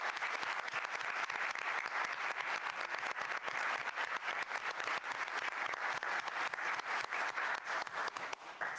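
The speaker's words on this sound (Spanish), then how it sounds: "démosle un fuerte aplauso también" Audience at a book presentation giving the author an applause: sustained, dense clapping from a room full of people, steady and moderately loud, tapering slightly at the very end.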